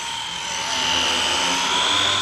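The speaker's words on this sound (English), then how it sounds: "It's just a pure beginner, no stress RC helicopter." Blade 150 FX small RC helicopter flying, with a steady high-pitched motor whine and rotor buzz that holds close and fairly loud, swelling slightly partway through.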